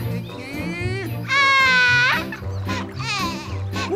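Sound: bear cub crying

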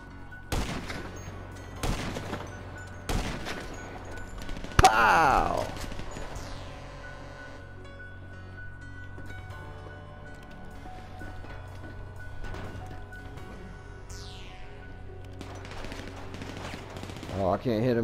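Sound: gunfire in a shootout, from the video game GTA

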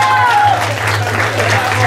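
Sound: audience applause

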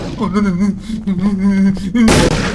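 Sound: scoped rifle gunshot in Skinwalker Hunt, video game

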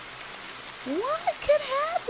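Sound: heavy rain in the video game The Bathhouse

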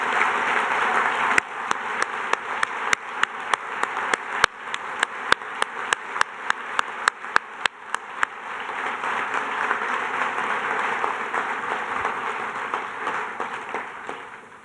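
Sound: audience applause at ceremony

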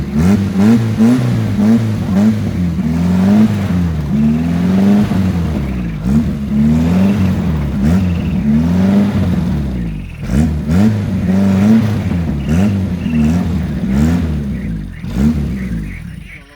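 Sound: homemade car engine revving, stuck in sand

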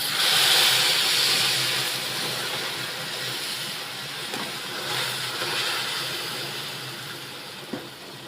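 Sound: boiled milk poured onto sev roasting in ghee

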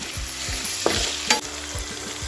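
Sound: tindora (ivy gourd) frying in a pan

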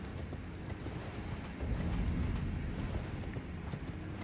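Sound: horse hooves galloping in Elden Ring video game

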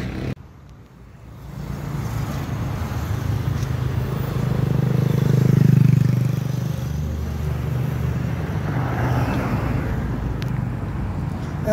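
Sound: motorcycles and cars passing on street

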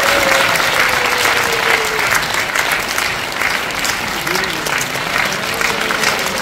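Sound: applause at inauguration ceremony

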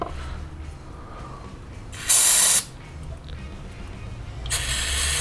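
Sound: spraying carburetor cleaner

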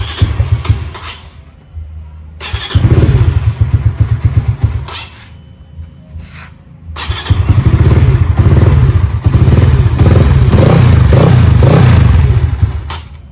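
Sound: Yamaha Winner motorcycle engine idling while parked

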